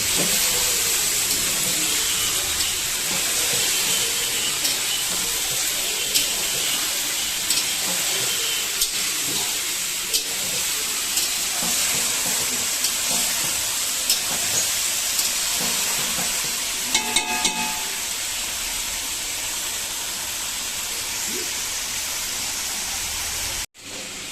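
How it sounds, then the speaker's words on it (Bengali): Food fries with onions in a pan, a loud, steady broadband hiss of sizzling that holds for over twenty seconds, with faint stirring clicks and scrapes scattered through it before a sudden cut at the end. "ভালো করে নেড়ে চেড়ে পেঁয়াজের মধ্যে মিশিয়ে দেওয়া"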